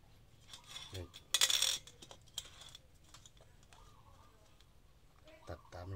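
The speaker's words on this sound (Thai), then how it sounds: "ต่อมาเราก็ใช้กรรไกรตัด" Scissors snip through a thin metal aerosol spray can along a marked line, giving a brief loud crunching cut with scraping metallic clicks around it, close up and set among quiet handling noise.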